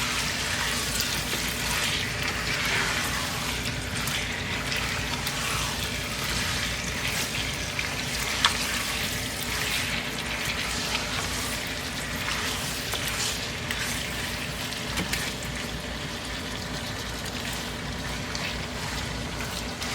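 Chicken pieces sear with masala in a hot pan for a degi chicken korma, giving a steady, dense sizzling hiss that stays loud and close for the whole stretch, with no voices over it.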